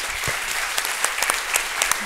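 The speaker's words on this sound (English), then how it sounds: "please give Mr. Manning and the panelists an applause." An audience applauding a keynote speaker and panelists at an economics talk, dense, loud clapping from many hands filling the room continuously.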